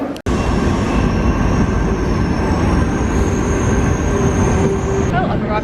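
A train at a station gives a loud, continuous rumble with high, thin wheel squeals running through it, close and steady from start to finish.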